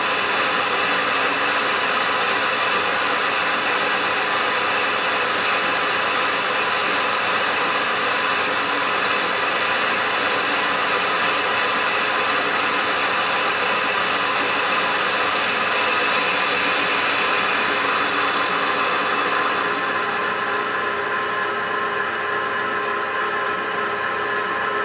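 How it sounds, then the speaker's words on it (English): A Hendey tool and gear lathe runs continuously, producing a loud, steady mechanical drone with a constant whine layered over it and no pauses. "What's nice is you can tune this lathe in because everything's variable."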